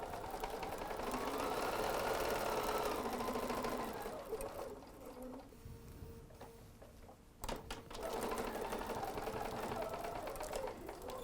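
A sewing machine stitches a fabric Christmas face mask seam, running in steady bursts with a short pause in the middle before resuming, close and alone.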